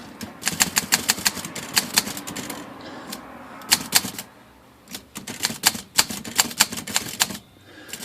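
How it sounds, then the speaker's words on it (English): A Hermes 3000 typewriter with sticking keys is typed on in quick bursts. Its sharp, close key strikes come in uneven runs broken by short pauses. "Yeah, these keys are really sticking."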